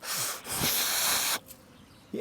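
A long, breathy exhale hisses out steadily for over a second, followed by quiet and a faint intake of breath.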